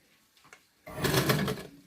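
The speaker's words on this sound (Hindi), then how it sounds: "अब सिलाई को थोड़ा सा कम कर लेते हैं" A sewing machine stitches the neckline of a blouse in a short, steady run of motor whirring that starts after a few faint taps and fades near the end, close and moderately loud with no talking.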